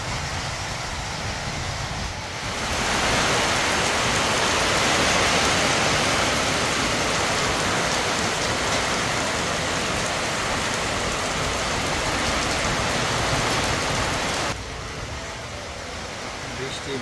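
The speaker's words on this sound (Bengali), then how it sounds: "আমরা একটু বাইরে থেকে বৃষ্টি দেখে আসি" Heavy rain pours steadily outside, a dense unbroken hiss that swells louder for most of the clip before easing slightly.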